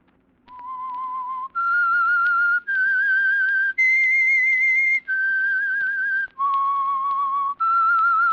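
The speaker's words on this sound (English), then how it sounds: "That whistle is your signal" A lone person whistles a clear, slow signal tune of seven sustained notes rising and falling in pitch, close and loud, with a faint low hum beneath.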